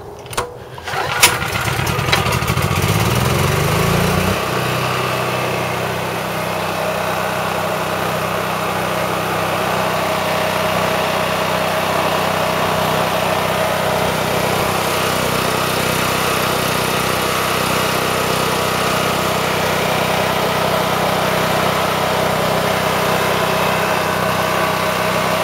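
A Harbor Freight 13 hp, 6500 W generator engine pull-starts with a few sharp bursts, then settles into a steady, loud, continuous running drone that holds close and unchanging to the end.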